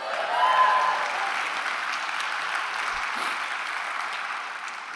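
Audience applause at an opening keynote of a Slow Money investing conference, a steady wash of clapping from a large crowd that swells early then holds evenly for about five seconds, with no talking over it.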